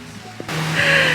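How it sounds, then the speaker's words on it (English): Heavy pouring rain in Chiang Mai, Thailand, starting abruptly as a loud, steady hiss that swells and holds, following a brief quieter moment. "It is pouring rain right now."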